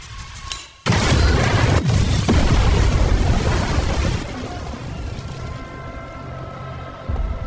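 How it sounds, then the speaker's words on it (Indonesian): A loud explosive device detonates in an action film, a sudden deep boom that erupts after a quiet moment and rolls on as a heavy rumbling roar before slowly fading into debris and a lingering low ambience. "Dengan cepat si ayah mengaktifkan alat peledak dan membawa putrinya keluar dari rumah."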